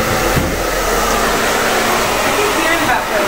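A hair dryer with a diffuser runs in a steady, loud whooshing roar of blown air, unbroken for the whole stretch.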